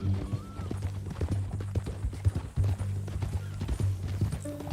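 Horse hooves clip-clop at an unhurried walking rhythm in Red Dead Redemption 2, steady and fairly close, with faint game ambience behind and little talk.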